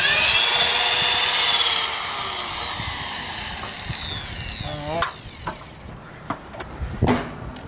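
DeWalt power tool running loud and steady with a high whine, then winding down and cutting off, followed by short intermittent bursts.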